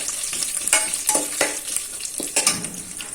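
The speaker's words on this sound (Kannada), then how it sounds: "ಸಾಸಿವೆ ಸಿಡಿಬೇಕು ಮತ್ತೆ ಅದೆಲ್ಲವೂ ಹಾಕೋದು ಹಿಂಗೆ ಆಡಿಸ್ಬೇಕಾಗುತ್ತೆ" Mustard seeds sizzle and pop in hot oil for an uppittu tempering while a spoon scrapes and stirs the pan in short repeated strokes, close and fairly quiet, with no talking.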